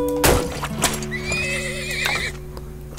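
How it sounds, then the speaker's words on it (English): Horse in the video game Turmoil gives a loud, close whinny with clip-clopping hooves around it, a short burst over a steady game music bed. "All right, I better get my horses ready."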